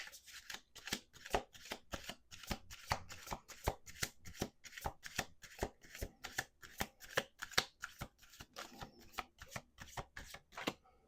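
Rapid, rhythmic riffle of oracle cards being shuffled, the crisp flutters repeating in quick bursts close by for several seconds.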